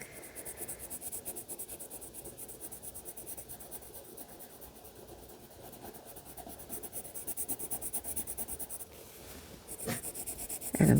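Pencil scratching steadily on paper while drawing a spiral on a Yule log cake sketch, a continuous soft close scraping with slight rhythmic variation, alone and quiet throughout.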